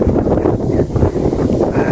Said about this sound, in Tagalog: binabay tayo ng napakalakas na hangin